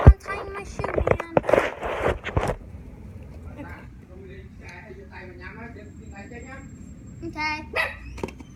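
Dogs and puppies bark and yip up close in a short burst of loud barks, followed by quieter yips and whimpers, with a person talking over and between them.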